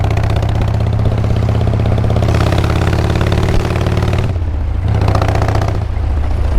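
A Harley-Davidson Super Glide motorcycle engine idles loud and close with a steady, lumpy low rumble that shifts slightly in tone partway through.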